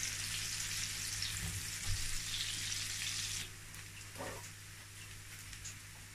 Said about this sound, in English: I'm going to fry my onions halfway cooked